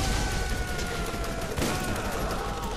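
Enemies firing guns in Borderlands, with dense overlapping gunfire sounding as a continuous rattling barrage throughout, fairly loud and close.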